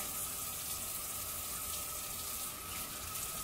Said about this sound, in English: First, use warm water to get your hands wet.